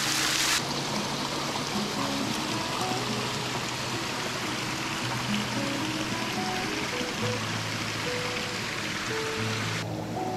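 Water weeping and trickling down a tall rock face in bushland near Walhalla, a steady close hiss and splash of running water that continues without pause.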